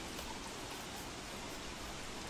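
Steady, faint hiss of rain falling in the survival video game Don't Starve, continuous and even with no talking over it.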